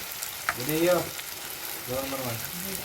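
Chilli masala fries for a fish curry in a pan on a wood-fired clay stove, giving a steady close sizzle with voices talking over it.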